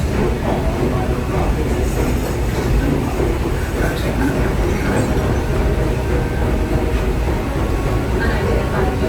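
The Magic Kingdom railroad train runs along its loop at the theme park, heard from the front of the train as a loud, continuous rumble with clattering wheels, and voices speaking over it.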